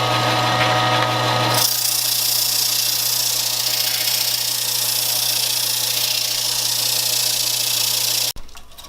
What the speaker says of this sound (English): So I'll fire it up, speed down, sand it rough grit all the way up